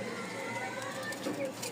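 Pigeons cooing nearby, eight birds kept together, low soft coos over a steady background with a voice talking throughout.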